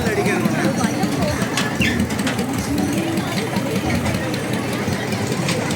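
A generator engine powering a giant wheel ride at a summer fair drones steadily and loudly throughout, mixed with crowd chatter and voices nearby.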